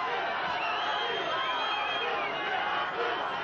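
A dense, roaring crowd cheers at a boxing match as Johnny Tapia fights Willy Salazar, a continuous loud wash of voices with a commentator talking over it.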